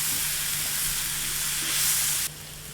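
Potatoes dropped into a pan of onions and garlic frying over lowered heat, giving a steady, close bright sizzle that holds level, swells slightly, then drops off sharply near the end.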